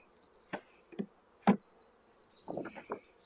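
Honeybees buzz around a beehive during a hive change, with several short, close buzzing passes coming in separate bursts and a small cluster near the end, each rising quickly then fading into quiet.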